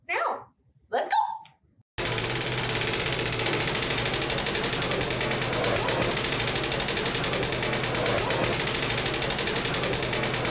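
A prize wheel spinning, its rapid steady clicking ticks filling the scene at close range after a short burst of speech at the start.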